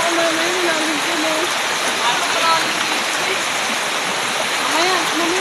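A stream runs steadily at a nature trip spot in Pawpawan, Sto. Cristo, San Jose del Monte, Bulacan, a loud continuous rush and splash close by, with voices calling faintly over the water.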